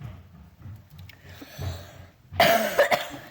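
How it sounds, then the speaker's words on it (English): A single harsh cough bursts out loud and close after a stretch of quiet low rumbling, followed by a brief throat-clearing tail. "Excuse me for that cough."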